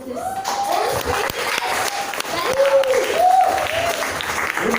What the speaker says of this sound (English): let's give a big round of applause to the guy behind all of this